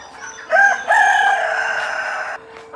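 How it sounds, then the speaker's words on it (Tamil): Roosters at a Jaffna black chicken farm crow loud and close, one long drawn-out cock-a-doodle-doo with a short lead-in call, followed by quieter background clucks. "கொஞ்சம் சாவல்கள் எல்லாம் கூவுது"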